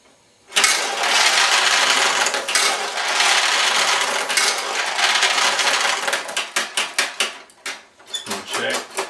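A Nishijin pachinko machine releasing its balls as a rod is lifted: a loud, dense metallic cascade of rattling balls pours out steadily, then breaks into shorter, choppy bursts as the rod moves up and down.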